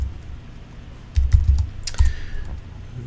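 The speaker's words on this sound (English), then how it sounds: "So if I type in make dir" A computer keyboard is typed on as a command is entered, with soft scattered keystrokes that become a denser, louder burst of clicks in the second half, close and with no talk.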